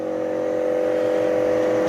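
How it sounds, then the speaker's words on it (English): An exhaust fan on a Great Carve Shield 1 laser engraver enclosure runs with a steady, even whir and a constant hum, close by and unchanging, with no voices. "I have my exhaust fan on"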